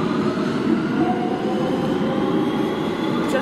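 A New York City subway train rumbles loudly and continuously, a steady close roar of rail noise from start to finish.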